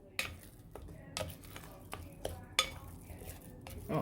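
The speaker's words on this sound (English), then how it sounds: "Just mix this around." A spoon or spatula scrapes and knocks against a mixing bowl as carrot muffin batter is stirred, giving irregular soft clinks and taps spaced through the stretch with no talking.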